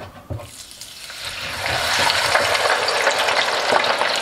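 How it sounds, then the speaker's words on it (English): Chips (French fries) drop into a deep fryer of hot oil. After a few faint knocks, a loud, crackling sizzle bursts up and holds steady, bubbling close by with no talking. "we are going to drop our chips in, French fries"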